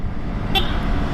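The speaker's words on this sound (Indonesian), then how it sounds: "Jelek, gue gak suka banget klaksonnya" A Yamaha R15 motorcycle horn gives one short, thin beep over steady engine and road noise.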